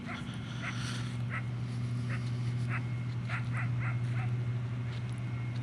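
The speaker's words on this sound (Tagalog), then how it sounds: "may aso na rito asong disyerto" A desert dog barks and yips in short bursts several times at a moderate distance, over a constant low mechanical hum, on a cold, thickly fogged road.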